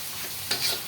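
Onion, garlic, bay leaf, two cardamom pods and dried chili hitting hot oil in a pan, a brief close hiss that swells sharply for a moment before settling.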